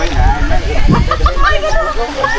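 Pool water sloshes and splashes from someone swimming at a seaside resort, a steady churning wash with a few sharper splashes, heard under lively nearby chatter and voices.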